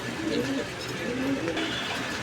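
Pigeons on a pigeon farm cooing in low repeated calls amid steady background noise, with faint voices nearby.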